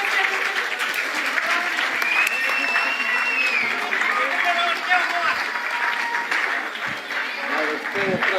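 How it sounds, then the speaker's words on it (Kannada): Loud, sustained applause from an audience at a children's Kannada literary conference in New Delhi, a dense wall of clapping filling the whole stretch with a few cheers breaking through. "ಜೋರಾದ ಚಪ್ಪಾಳೆ."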